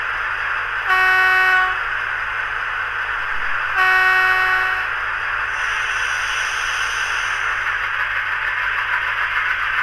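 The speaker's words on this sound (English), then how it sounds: "Space is incorporated inside the model for a full bass reflex speaker to replicate the iconic Caterpillar sound of these locomotives." Onboard bass reflex speaker in a Dapol Class 68 model locomotive replicating a Caterpillar diesel engine, a loud steady rumble with two sustained horn blasts sounding early on, no talking.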